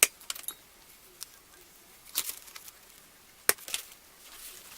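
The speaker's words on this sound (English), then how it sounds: "so I'm just going to cut that off." Tweedia flower stems snipped short for a spring wreath, a few sharp, isolated cutting snaps spaced out over quiet room tone with no talking.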